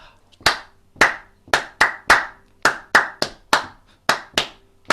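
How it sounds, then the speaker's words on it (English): Hands clap sharply in a steady, even rhythm, about a dozen crisp claps close by with no talking. "and then clap"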